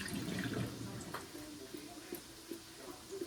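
Soapy water is poured out over a kitchen sink, a fairly quiet splashing at first that tapers into scattered drips and trickles.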